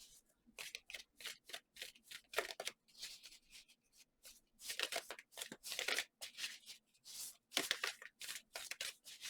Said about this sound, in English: I love this deck, but it's so hard to shuffle.